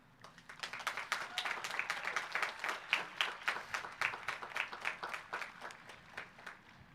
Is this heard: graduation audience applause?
yes